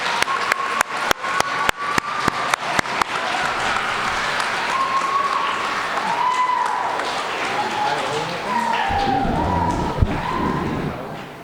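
A school event audience claps, opening with a few loud separate claps that swell into sustained, even applause filling the room for about ten seconds, with a louder thump near the end.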